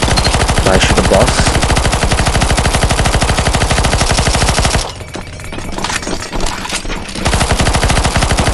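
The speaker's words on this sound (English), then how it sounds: "shoot the boss now, shoot the boss" Rapid automatic gunfire from a CS:GO zombie escape map, aimed at a boss: loud, dense, continuous shooting that breaks off briefly into quieter rumble and scattered shots, then resumes at full intensity.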